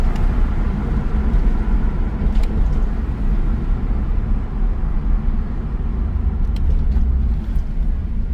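An Acura RSX fitted with paddle shifters runs with a loud, steady low engine rumble as it shifts into first gear, with no voices.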